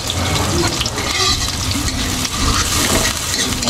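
Cooking oil heats and sizzles in a large wok, a loud, dense, continuous frying hiss with scraping, clattering utensil noises and busy movement close by.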